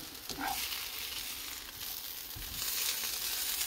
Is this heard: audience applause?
no